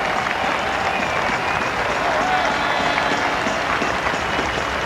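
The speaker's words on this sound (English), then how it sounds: "Warm applause from this large crowd here at Edgbaston for Herschelle Gibbs' 50" A large cricket crowd at Edgbaston applauds Herschelle Gibbs' fifty during the 1999 World Cup Super Six match between South Africa and New Zealand, with steady, dense clapping and crowd murmur sustained throughout.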